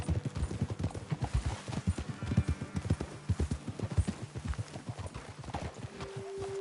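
Horse hooves clip-clop steadily in Red Dead Redemption 2, a brisk, even rhythm of close, distinct hoofbeats over a continuous ambient background throughout.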